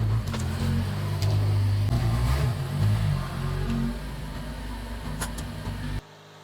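A Subaru Sambar engine idles close by with a steady low rumble and a faint mechanical chatter on top. The sound stays even throughout and cuts off sharply near the end.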